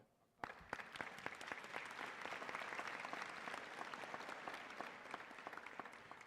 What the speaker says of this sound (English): you would applaud for that level of accomplishment.